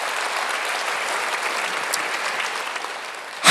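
Church congregation at a Sunday worship service breaks into sustained applause, a dense steady wash of many hands clapping throughout, ending with a sudden louder knock.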